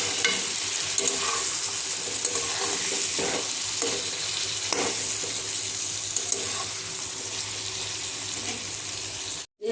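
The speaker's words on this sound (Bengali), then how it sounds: "নেড়ে চেড়ে আমি এটা কষিয়ে নিয়েছি, তেল ছাড়তে শুরু করেছে" Ridge gourd coated in turmeric and chili powder sizzles and fries in oil as it is stirred in a pan, a steady close crackle with soft scraping strokes throughout.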